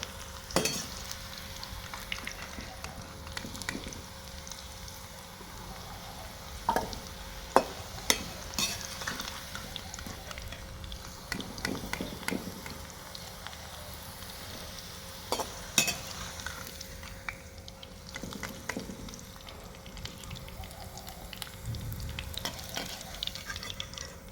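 Bitter gourd and onions sizzle and fry in oil in a home kitchen pan. A steady soft crackle runs throughout, broken by the clink and scrape of stirring, with no talk.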